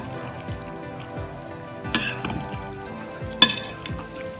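A spoon clinks against a bowl while macaroni chaat is mixed, giving a few sharp metallic taps over a soft, steady stirring and scraping, with no one talking.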